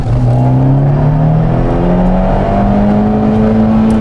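Abarth 124 Spider with the 240 hp engine revving hard toward its rev limiter, a loud continuous engine note with rising and falling harmonics heard close up from inside the car, no talk.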